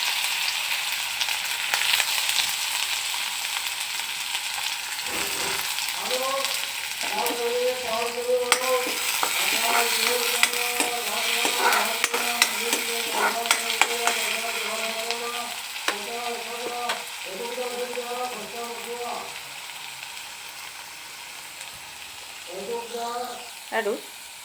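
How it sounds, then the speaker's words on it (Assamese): Onion paste frying in hot oil in a wok, a continuous hiss and sizzle with stirring scrapes, while someone talks over it for much of the time. "কেৰাহীত তেল দিলোঁ, আৰু তেল গৰম হৈ গ'ল। গতিকে মই দিছোঁ পিঁয়াজৰ গুড়িখিনি।"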